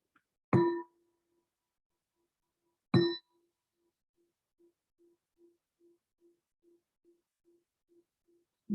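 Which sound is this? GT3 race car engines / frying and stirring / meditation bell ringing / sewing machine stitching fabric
meditation bell ringing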